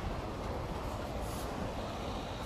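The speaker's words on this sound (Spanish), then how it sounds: "en el tranvía de Lisboa." Lisbon's tram 28 rumbles along steadily at night, a continuous close rolling of wheels and car body on the rails with no voices over it.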